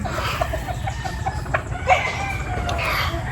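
Farm chickens, with a rooster crowing and hens clucking, sound at moderate distance in a series of short calls over a steady background hum.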